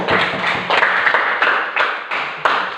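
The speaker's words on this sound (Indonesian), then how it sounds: "tepuk tangan untuk kelompok keempat" A classroom of students claps for a presenting group, a close, loud, uneven rattle of hands in several bursts with sharp individual taps.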